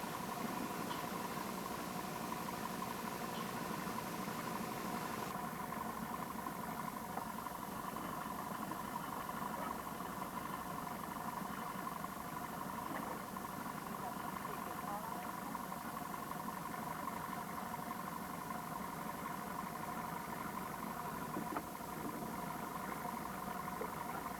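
A boat engine hums steadily while trolling for Pacific salmon, a low even drone with faint tonal whine, continuous and moderately distant.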